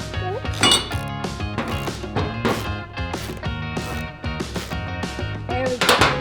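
Metallic clinks and taps from a wrench loosening a bolt near the air filter of a race car engine, a busy run of close, irregular knocks over a steady tonal background.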